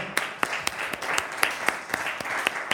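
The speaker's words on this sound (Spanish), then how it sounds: "le des entonces un aplauso, una alabanza de manos" A church congregation claps in praise of the Lord with rhythmic clapping. Sharp, regular claps land roughly every quarter second over a softer bed of scattered applause, moderately distant.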